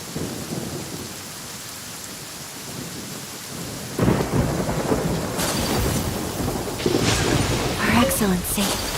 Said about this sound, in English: Let us find shelter from the rain.